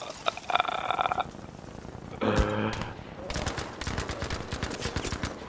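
Rapid Battlefield V gunfire near a canal in Rotterdam: loud automatic bursts crackle in quick succession, mixed with a tonal in-game alert and other effects, and a voice is heard over the shooting.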